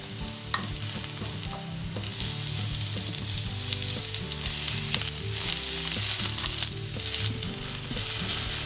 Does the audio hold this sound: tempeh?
yes